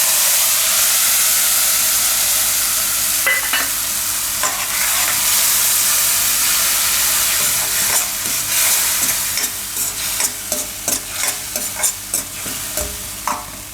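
Asafoetida, curry leaves and a spice mix sizzling in hot ghee in a pan on low heat, a loud steady frying hiss with a spoon stirring and tapping toward the end.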